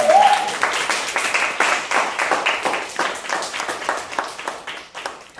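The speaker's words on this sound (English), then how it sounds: "Y'all give her a hand clap." Audience hand clapping at a motivational speaking event, a crowd of steady, fairly loud claps with rhythmic beats of many hands together, lasting throughout without speech.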